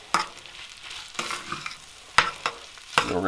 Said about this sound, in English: Give it a good stir all around.